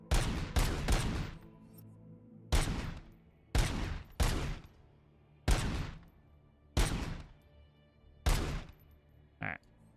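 Rapid gunfire in RoboCop: Rogue City during target practice, about ten sharp shots in clusters and singles, loud and close over a low background hum, with no talk.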